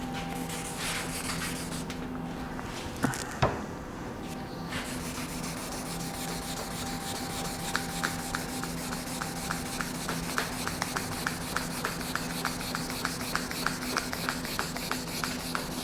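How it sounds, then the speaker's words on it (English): Wet sanding car paint with 1500 grit sandpaper makes a steady, close, rhythmic rubbing and scraping, with brief bumps near the start before an even back-and-forth stroke continues to the end. "I'm going to use 1500 grit wet sandpaper. And let's put some sandpaper scratches here."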